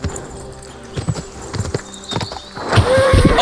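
Horse hooves clip-clop at a steady, close rhythm while riding in the game Kingdom Come Deliverance 2, and a louder rush of movement and wind builds near the end.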